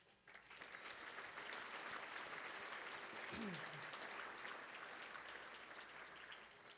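Steady applause from a large gala audience, many hands clapping continuously at an even level, with a brief vocal whoop partway through.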